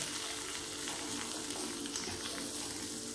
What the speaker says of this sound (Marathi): आणि हलवारपणे त्याला हलवायचे, परतून घ्यायचे, म्हणजे ते अंड व्यवस्थित शिजेल।